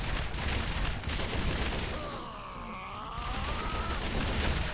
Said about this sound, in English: Yeah, still using the tactical machine pistol after all this time.